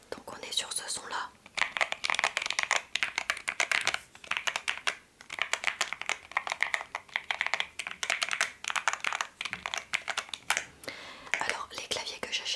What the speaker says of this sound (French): Donc là c'est des Milk Linear Switch. Donc on est sur ce son là.